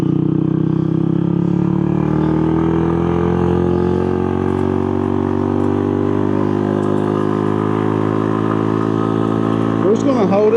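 Street mini bike engine running on the road, a loud close steady drone that slowly climbs in pitch as it accelerates uphill, continuous for the whole stretch without talk.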